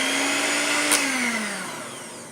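Blender whirring as two eggs are mixed into quesadilla batter, a loud steady motor whine that drops slightly in pitch and then runs on evenly, close up and alone.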